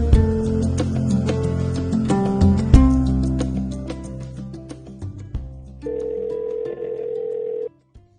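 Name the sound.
telephone ringing for an incoming call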